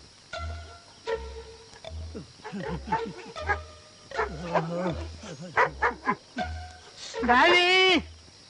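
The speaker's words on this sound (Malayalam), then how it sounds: "ഈ പട്ടി എന്തിനാ അങ്ങനെ കിടന്ന് കുറയ്ക്കുന്നത്?" A dog in a Malayalam film scene barks in repeated bursts, mixed with dialogue and other scene sound, moderately loud and close.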